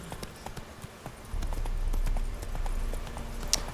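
Horse hooves clip-clop in The Witcher 3 as the horse sets off: light, scattered hoof taps first, then a steadier, louder rhythmic trot over a low rumble, with no talking.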